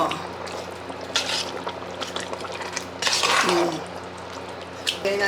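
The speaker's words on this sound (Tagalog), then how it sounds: "Lagyan na natin ang ating sweet style spaghetti sauce." Sweet style spaghetti sauce poured into a cooking pot, with wet trickling, stirring and metal utensil clinks against the pan at close range, plus brief bursts of louder scraping.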